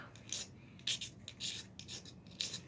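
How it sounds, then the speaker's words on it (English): Small flakes of magnesium are scraped off a fire starter block with a toothed striker, giving about five short, close rasping strokes in an even rhythm with quiet gaps between them. "Scrape a bunch of these little pieces of magnesium"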